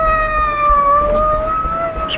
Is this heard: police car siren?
yes